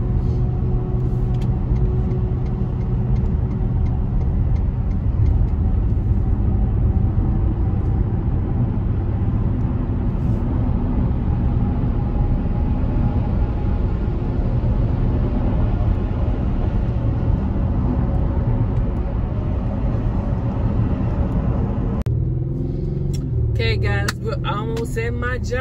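Steady low road rumble and engine drone inside a moving car on the way to a grocery store, continuous and fairly loud, with a brief shift near the end.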